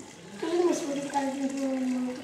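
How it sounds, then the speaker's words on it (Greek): Water is poured into a blender of paper scraps to make recycled paper pulp, a steady splashing pour lasting about two seconds while a voice is faintly heard. "Βάζουμε μπόλικο νεράκι."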